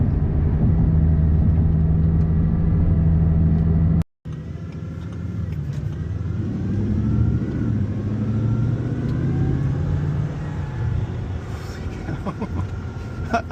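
A Bugatti Chiron Super Sport pulls away gently under light throttle, giving a continuous low engine rumble and road roar that builds slightly, with a brief cutout early on.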